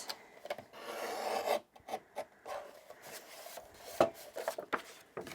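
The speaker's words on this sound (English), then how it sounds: "I'm using the Tim Holtz trimmer here as well" Tim Holtz paper trimmer slicing paper during card making, a run of dry rasping strokes and short scrapes, close and fairly quiet, with no voices.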